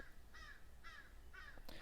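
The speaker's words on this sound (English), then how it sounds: "I think the crow has something we need to hear" A crow caws three times at an even pace from some distance, harsh rasping calls followed by a short extra squawk at the end.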